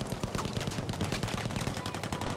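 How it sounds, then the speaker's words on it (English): Dense, continuous gunfire in the shooter game Battlefield V, with rapid overlapping automatic bursts and shots at varying distances filling the whole stretch without pause. "Where is this guy shooting me from?"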